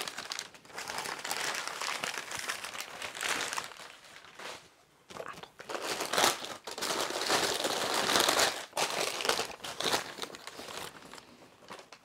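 Packaging for a pair of Gucci shoes being unwrapped and opened, with continuous crinkling and rustling of paper and plastic close by, in bursts with short pauses between handling.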